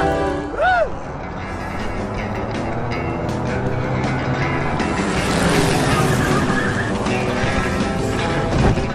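A car driving in the video game Grim Fandango gives a steady engine and road rumble throughout, with a brief high whine early on and a slight swell toward the end.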